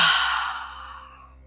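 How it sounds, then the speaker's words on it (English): A single long exhale through an open mouth during a floor-based yoga breathing exercise, a soft breathy sigh close to the listener that fades gradually over about a second. "Open your mouth, exhale."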